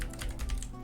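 Quick keystrokes rattle on a computer keyboard as a player types a chat command into Lord of the Rings Online, a brief close burst of clicks.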